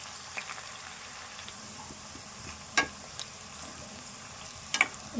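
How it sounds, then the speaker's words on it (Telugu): Crushed garlic fries in hot oil as a tempering for Telangana-style lemon pickle, giving a soft steady sizzle with a couple of sharp spoon clinks against the pan. "ఈ ఎల్లిపాయలు కూడా దోరగా వేగాలి ఈ తాలింపుతో."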